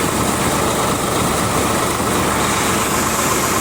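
A 2022 or 2024 Sawraj 855 tractor running in third gear, its engine a loud, steady, dense rumble close by with no break.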